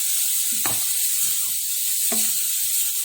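Ground coconut and tomato are stirred into a chickpea curry in a pan. A steady hiss carries two distinct scraping strokes, close and alone, with no talking.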